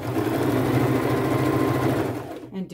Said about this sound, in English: with my sewing machine and needle